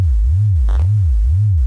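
Synthesizer FM tone, a low, loud hum whose pitch rises and falls in slow, steady waves about every half second, with a brief faint click partway through.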